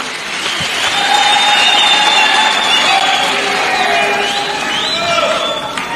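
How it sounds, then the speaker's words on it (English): A crowd at a public gathering in Zambia cheers and claps in a loud, sustained wash of noise, with high tonal shouts or whistles rising over it and a voice speaking through the din. "Clap for yourselves."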